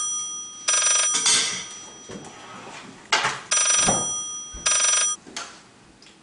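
A telephone rings in loud repeated bursts, each ring a bright electronic trill separated by short pauses, close and alone with no voices.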